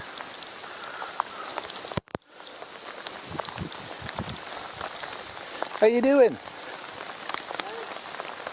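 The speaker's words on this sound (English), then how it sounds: "Thunder's gone, lightning's gone, and it's just a rainy day." Steady rain falls on a rainy day after a thunderstorm has passed, a constant patter close by, with a sharp knock and brief voices in conversation over it.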